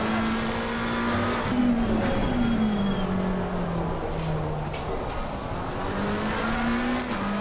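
A Lamborghini race car engine drones loudly in a PS5 racing game at Misano, its pitch sliding up and down through gear changes, with other cars roaring close by throughout.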